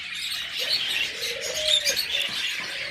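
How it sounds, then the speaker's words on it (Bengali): A pair of jenday conures in an aviary give continuous high chattering calls, with a few thin, drawn-out whistles near the middle and no voices. "চমৎকার একজোড়া জান্ডি কোনোর"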